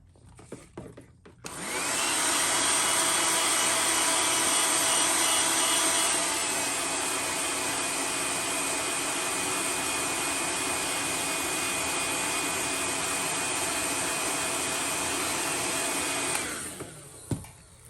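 A handheld dryer blows steadily and loudly for about fifteen seconds, drying a freshly painted fishing lure during rust and distressed-metal painting. It makes a continuous airy whir with no talking, starting and stopping abruptly.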